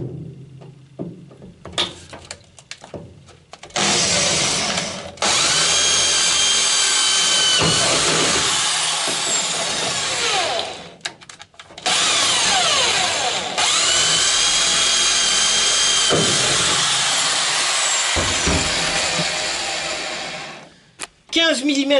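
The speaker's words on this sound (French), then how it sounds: "Je prends une perceuse. Forêt 5, toujours équipée d'une entretoise." A power drill fitted with a 5 mm bit and a spacer runs in long, loud whining bursts while drilling into a Citroën Traction 11B to fit front seat belts, with short pauses and clatter between runs.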